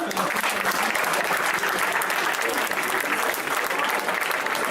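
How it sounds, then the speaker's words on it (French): Dense, continuous applause from a ceremony crowd at a youth rugby beret-presentation event, a bright, even roar of many hands clapping that holds at full strength throughout. "Voilà, vous pouvez l'applaudir."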